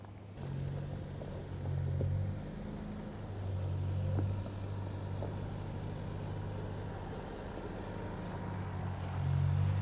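A Toyota Tacoma TRD Pro off-roading with its wheels spinning gives a steady low engine drone that swells and eases as the throttle changes, a continuous rumble throughout with faint scraping bits.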